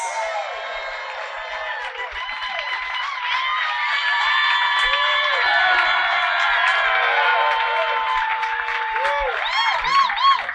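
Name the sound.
audience applauding and cheering Jack White's entrance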